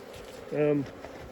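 Honeybees buzz around a hive frame in a brief, fairly close burst of humming drone that swells for a moment and then fades back into a low background hum.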